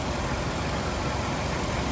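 A car engine idling up close, a steady low rumble with constant broadband hum and no change in pace, alone with no talk.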